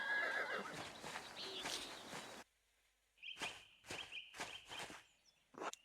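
Horses whinnying and clip-clopping in the Pentiment video game, a brief whinny followed by a run of evenly spaced hoof thuds and snorts after a short pause, fairly close and clear.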